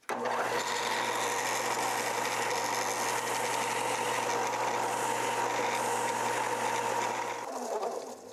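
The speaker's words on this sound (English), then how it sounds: "I'll finish what I can here on the belt sander" A belt sander grinds steadily as a wooden fishing lure is shaped against it, a loud continuous whine with a low hum, running without a break for about seven seconds before winding down.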